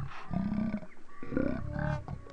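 Slowed-down speech from 60 fps slow-motion footage shot while driving at a 4x4 adventure park, a deep, drawn-out, growling voice, close and continuous.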